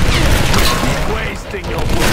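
Loud, dense gunfire in Tomb Raider (2013) forms a continuous harsh burst of shots and booms that fills the whole moment, with a voice reacting over it.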